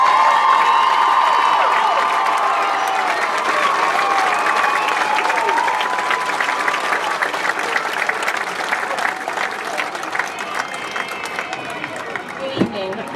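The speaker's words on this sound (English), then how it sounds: "How about a resounding round of applause for those graduates?" Sustained applause from a commencement audience honoring graduates, a dense wash of clapping with some cheering that holds steady and slowly tapers over about thirteen seconds.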